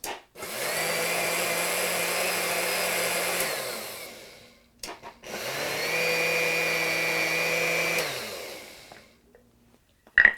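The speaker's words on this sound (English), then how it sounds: "I'm pulsing it to make sure that everything has a chance to blend before I just really let it go." A blender runs in two long bursts of about four seconds each, with a short pause between them, as it purées sorrel soup. It gives a loud, steady whirring roar with no talking.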